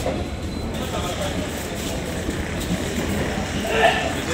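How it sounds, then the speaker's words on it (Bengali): Siphung Express train pulling into a station between New Bongaigaon and Barpeta Road, a steady rolling rumble with a brief squeal near the end while someone talks over it. "শুধু ট্রেন ঢুকছে নয়, আমার পিছনেও ইতিমধ্যে চলে এসেছে, আমাকে ক্রস করে যাচ্ছে।"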